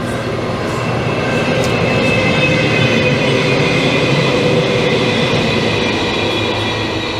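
A train rolls past at close range, a loud, steady rumble of rail cars with thin high wheel squeal running through the whole stretch.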